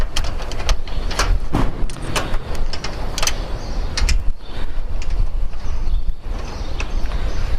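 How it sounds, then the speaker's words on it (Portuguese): Bolts being fastened to fix solar panels onto an aluminum mounting structure, a run of sharp metallic clicks and knocks close by over steady outdoor noise, with no voice. "Então agora eu estou fixando já o 2º parafuso"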